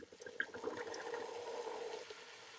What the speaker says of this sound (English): So I'm going to put in my wine.